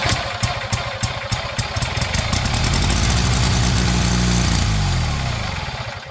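A twin-cylinder 250cc minibike engine fires up on carb cleaner. It pops rapidly at first, then roars loud and rough at close range before fading as it dies down.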